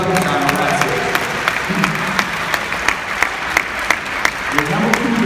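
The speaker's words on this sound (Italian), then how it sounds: "Un grosso applauso a Luciano," Applause at a football club's Christmas party in the Venice Arsenal, with steady clapping and regular sharper claps cutting through, voices murmuring underneath.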